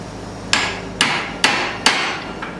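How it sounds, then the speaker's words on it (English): Hammer blows on hot steel as a tomahawk eye is forged around a drift, four sharp ringing strikes at an even, steady rhythm, loud and close with no voices. "the key is to forge around the drift versus just hammering it in"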